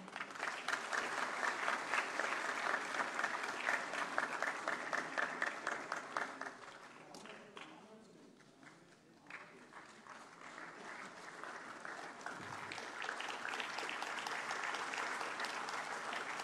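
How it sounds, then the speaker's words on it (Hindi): At a national awards ceremony for empowerment of persons with disabilities, presented by the President of India, an audience gives sustained, even applause in a large hall. It fades briefly, then swells again and continues. "जोरदार तालियों से इनकी हौसला अफजाई कीजिए।"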